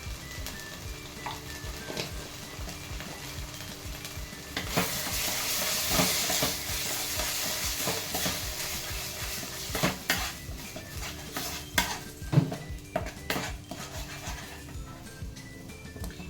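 Turmeric and chilli powder, including Kashmiri chilli powder, fry in a pan for a fish curry with cauliflower, sizzling steadily as a metal spoon scrapes and clanks against the pan again and again.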